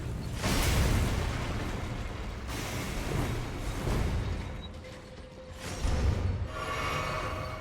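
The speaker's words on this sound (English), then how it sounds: "That explosion was larger than I anticipated." Explosion in the video game Elden Ring, heavy rumbling booms rising and falling across several seconds, loud and dense with mechanical grinding and creaking textures.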